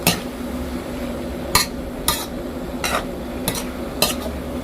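Stirring gourd with minced pork in a pan gives a few sharp utensil scrapes and clinks against the metal at irregular intervals, over a low steady cooking hiss.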